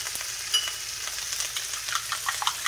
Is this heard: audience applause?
no